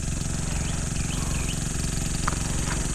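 An engine idles steadily on a farm, a close, continuous low chugging drone with faint higher chirps over it and no talking.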